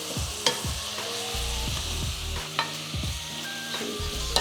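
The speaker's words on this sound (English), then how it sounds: "So stir that up, let it brown" Beef mince browns in a hot pan with black pepper, a continuous sizzle broken by repeated scraping stirs and clinks of the utensil against the pan, close and fairly loud, with no talk.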